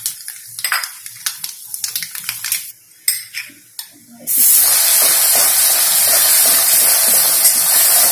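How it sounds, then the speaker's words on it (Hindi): Mustard seeds and red chili hit four tablespoons of hot oil, first with scattered clinks of a utensil against the pan, then an abrupt, loud, steady sizzling hiss that fills the rest. "मैं सरसों डाल दूंगी और लाल मिर्च"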